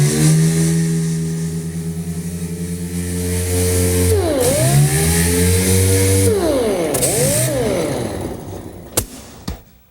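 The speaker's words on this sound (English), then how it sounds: "But I'm going to use the dual orbital sander for this to speed the process up a little bit." A dual orbital sander works over a car body repair area, a loud, close whirring drone whose pitch sweeps down and back up as pressure changes, ending in a few sharp knocks.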